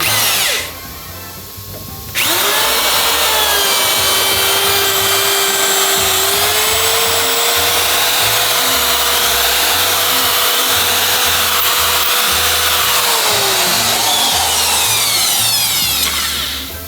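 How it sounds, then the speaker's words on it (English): A power tool reams the valve guides of a Honda Civic Si EM1 cylinder head: a loud, steady, close motor whine running almost unbroken after a brief start, its pitch drifting slightly up and then back down near the end. "So we're gonna go ahead and ream it"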